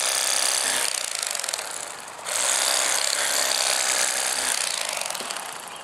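An electric fillet knife cuts through the ribs of a channel catfish. It gives a loud, steady, high-pitched mechanical buzz and rattle for the whole stretch, dipping briefly once, with no talk.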